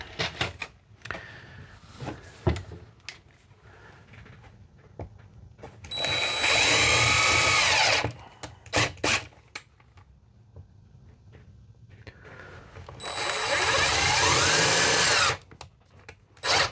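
A power drill drives stainless number 10 by 1 inch screws during a box van build, with two loud whirring bursts of about two seconds each between quiet handling clicks and knocks.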